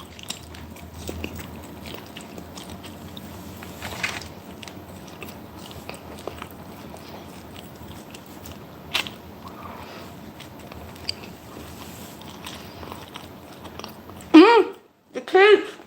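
Close, moist biting and chewing on very salty meat with gristle, a steady soft mastication texture running throughout with a few sharper bites, and a louder burst of sound near the end.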